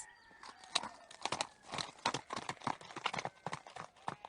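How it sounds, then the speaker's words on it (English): Horse hooves clip-clop in a steady, uneven trot, with crisp knocking beats and some rustling, moderately close and without speech. "ride off on their horses"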